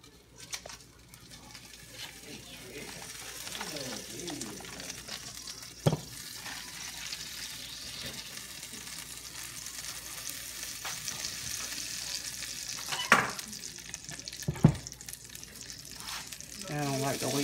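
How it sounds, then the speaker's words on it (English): Butter melting and searing in a pan for seafood rice gives a soft, steady sizzle that slowly builds, broken by a few sharp clanks of utensils and faint voices in the background. "I'm going to put my butter in here and let it sear."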